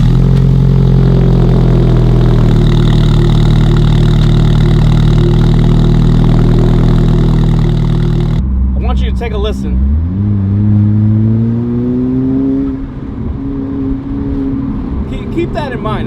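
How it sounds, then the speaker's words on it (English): Alfa Romeo 4C engine on a cold start, a steady loud idle with a deep drone that drops off, then rises again with revving under a person talking. "here's a cold start of my Alfa Romeo 4C"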